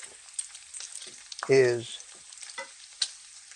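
Bacon frying in a pan, a steady close sizzle with stirring, and a short loud burst of spattering partway through, while a voice speaks briefly and faintly.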